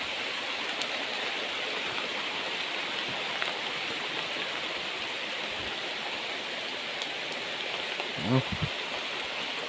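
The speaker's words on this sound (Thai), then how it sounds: "ฝนตก พี่น้องฝนตก ฝนตก" Steady, dense hiss of rain pouring down close by, a continuous wash of noise with a brief low thud near the end.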